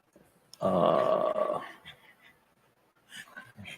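A puppy gives one low rumbling growl lasting about a second, then soft snuffling and faint movement follow.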